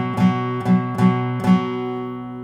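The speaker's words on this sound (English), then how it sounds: "We're just hitting the fifth string and the fourth string in a quick down strumming motion." On an acoustic guitar, four quick down-strums hit the fifth and fourth strings together as a blues bridge with no open strings, in a steady rhythm. Each strum rings out clearly, and the last one fades slowly.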